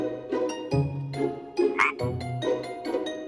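A frog croaks repeatedly in a steady rhythm, low throaty calls close by, with a brief higher chirp partway through.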